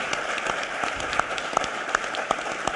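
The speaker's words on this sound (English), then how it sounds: "Let's give these guys a big round of applause" Audience applause following a student team's winning presentation at a conference academic challenge, a steady wash of clapping from a crowd, moderately loud and continuous with a few sharper individual claps standing out.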